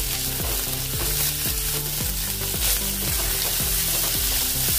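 Large slices of onion and whole garlic cloves fry in a hot pan for besan aloo sabzi, giving a loud, continuous sizzle broken by regular scraping strokes of a spoon, with no voices.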